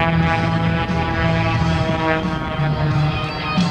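Skip Stewart's aerobatic propeller plane snap-rolls and climbs at the 2011 Blue Angels Homecoming Airshow, its engine a steady, loud droning roar with pulsing harmonic buzz that fills the whole stretch without a break.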